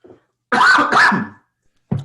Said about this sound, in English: I didn't want to cough right into the microphone.